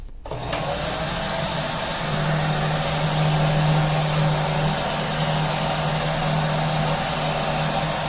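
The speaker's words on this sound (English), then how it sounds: "I'm just very lightly moving my micro attachment for the vacuum over the areas where the dust has accumulated" A vacuum cleaner with a micro attachment pulls dust off a Zotac RTX 2060 graphics card. The motor starts abruptly and then holds a loud, steady whine with a tonal hum underneath, with no talk.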